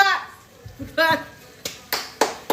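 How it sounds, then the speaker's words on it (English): In a home kitchen, a few people clap and cheer briefly after a can is opened, with scattered sharp claps between bursts of talking and excited voices. "Everybody clap. Clap."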